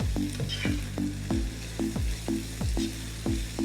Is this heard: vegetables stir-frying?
yes